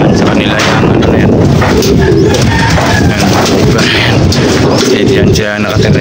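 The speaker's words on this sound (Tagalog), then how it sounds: "Grabe lakas ang hangin." Strong wind gusting outdoors, a loud continuous broadband roar buffeting the microphone for the whole stretch, with voices talking faintly underneath.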